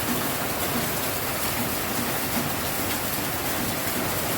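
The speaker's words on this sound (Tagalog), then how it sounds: "Lakas ng ulan, no?" Heavy rain pours steadily over a garden, a dense, constant hiss of drops close by with no pauses and no voices.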